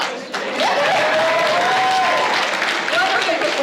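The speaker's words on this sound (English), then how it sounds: "let's give a round of applause" Comic con panel audience applauds in a busy hall, broad clapping and crowd noise carrying at a steady loud level with voices mixed in.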